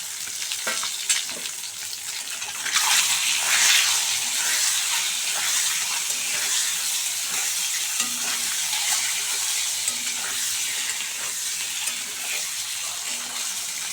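Duck eggs seasoned with turmeric and salt sizzle steadily in a frying pan, a continuous close hiss of frying with intermittent scraping as they are stirred, and no speech.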